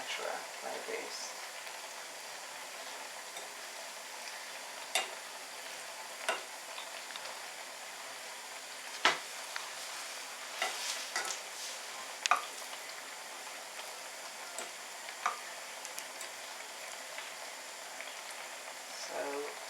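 Gari and black-eyed beans fry in very hot oil in a pan, giving a soft, steady sizzle broken by sharp crackles and pops every few seconds.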